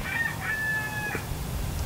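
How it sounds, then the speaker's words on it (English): Rooster crowing on a farm: one clear, drawn-out cock-a-doodle-doo, moderately near, over steady background noise with a soft thump near the end. "Was that the rooster again?"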